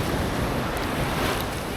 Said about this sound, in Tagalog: Sumasabay lang tayo sa alon.